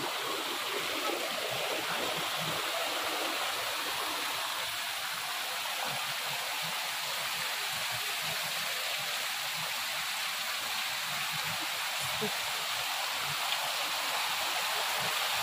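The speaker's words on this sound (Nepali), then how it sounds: "दिस इज द मुक्तिनाथको धाराहरू।" Water streams steadily from the stone spouts at Muktinath temple, a constant, even rush and splash close by, with no talking.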